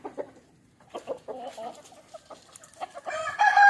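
Native country chickens cluck in scattered bursts, and a rooster starts crowing loudly toward the end, close by on a farm in the morning.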